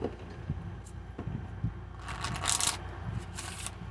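A deck of cards is riffled and bridged in a quick crisp flutter, with soft handling taps before it, fairly close.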